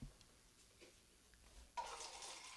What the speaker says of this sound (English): That was a wine pour.